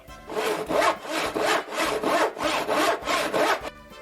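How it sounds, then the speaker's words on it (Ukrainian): A hand saw cuts through wood in steady back-and-forth strokes, about eight rasping pulls, loud and close, with no voices. "І пилкою пиляв."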